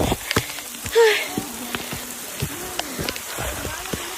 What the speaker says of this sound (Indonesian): Hujan.